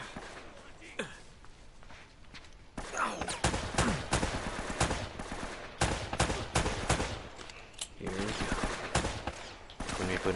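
Bursts of machine gun fire crackle in Uncharted: Drake's Fortune amid a plane-wreck firefight, with rapid repeated shots in irregular clusters and a voice talking over the action.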